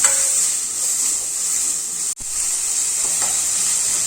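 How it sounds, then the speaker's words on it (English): Chopped onion sautéing in heated oil in a pan for a soya chunks curry, a steady loud sizzle throughout with a brief dropout midway and faint stirring scrapes near the end. "So the oil is heated. I'll be adding the onion. Just to saute it for"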